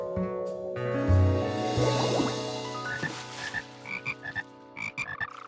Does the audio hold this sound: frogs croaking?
yes